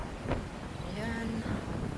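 Strong gusting wind roaring across a microphone beside a highway in Dubai, a steady low buffeting rush with brief surges, no voices.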